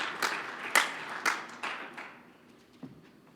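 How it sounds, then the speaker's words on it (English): A few scattered hand claps from a small audience at a turkey calling championship, sparse and fading over a few seconds with no other sound. "let's give the callers all a great round of applause for making it to these championships"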